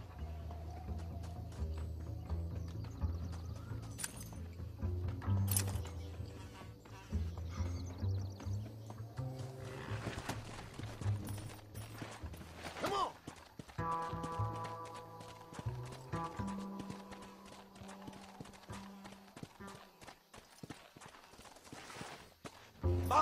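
In the game Red Dead Redemption, rhythmic horse hoofbeats clop along at a steady gallop alongside background music, with occasional animal calls, continuous throughout.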